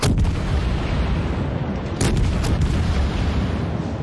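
Naval gunfire in a warship battle video game, focused on a Montana battleship: a heavy, rumbling barrage of deep booms and a sharper salvo crack midway, loud and continuous.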